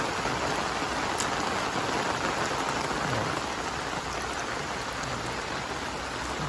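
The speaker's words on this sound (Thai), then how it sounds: "วันนี้ฝนตกนะครับ" Heavy rain pouring down at an outdoor work site, a dense, unbroken hiss of drops striking surfaces, steady and loud throughout with no voices.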